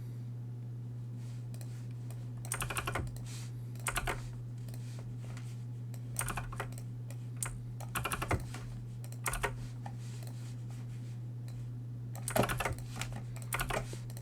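Quick bursts of typing on a computer keyboard, soft clicking in short clusters separated by pauses over a steady low hum in a quiet room.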